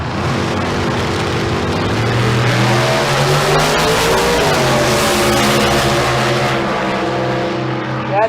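A 2008 Pontiac G5 at Famoso Dragstrip revs loudly up close during a drag race, its engine note climbing and shifting through gears with a strong tonal roar that holds high and then eases.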